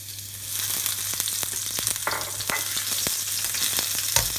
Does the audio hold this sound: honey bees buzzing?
no